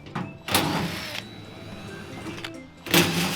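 A power drill runs in reverse, backing screws out of a casino monitor: short, loud whirring bursts separated by quieter handling noise, close by.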